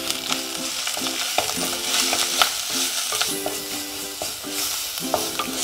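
Crushed garlic and ginger sizzle and fry in a pan for a chicken and spinach curry, with a steady loud hiss broken by repeated stirring scrapes, close up and with no voices.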